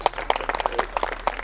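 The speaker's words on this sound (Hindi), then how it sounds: "ताली बजा दो" A short burst of audience clapping at a Deepotsav cultural program, a modest crowd giving several uneven, fairly close claps for a compère for about a second and a half.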